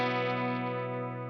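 A clean electric guitar tone from a Line 6 Helix snapshot rings out as one sustained chord, bright and harmonically rich, decaying slowly over a little over a second with no voices.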